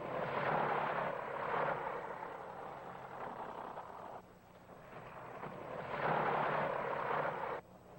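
A hired plane flies out toward a lake in an early adventure film, giving a steady, rumbling engine drone that swells and fades twice and sounds fairly distant and muffled, with no talk.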